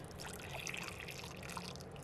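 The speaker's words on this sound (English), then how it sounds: "pour in 1 cup of boiling water" Boiling water poured into a bowl holding gelatin, a steady close liquid splash and trickle lasting about two seconds with no talking.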